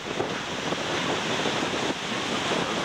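Wind rises at a Thailand beach as a continuous roaring rush with buffeting against the microphone, mixed with surf. It is steady and fairly loud, and no one talks.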